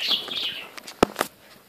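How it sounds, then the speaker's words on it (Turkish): A budgerigar's wings flutter in a few quick flaps, close by, with faint chirps early on. "Uçurttum kuşu."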